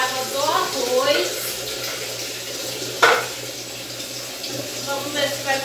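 Water splashes and runs into a metal pot that has been patched with enamel, for cooking rice. The pour is steady and close, with a brief clatter of the pot partway through.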